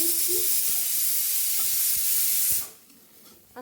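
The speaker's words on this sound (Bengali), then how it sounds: "দেখো পনিরগুলো একটু ভেজে নিচ্ছি।" Paneer pieces frying in a pan with a loud, continuous hiss and sizzle close by, a few soft clicks underneath, the sizzling dropping off sharply near the end.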